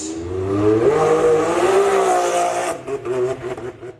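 Off-road rally cars launching at the start of a Turkish Baja Cup race, a loud close engine roaring and revving up, then receding with fluttering engine noise toward the end, no talk.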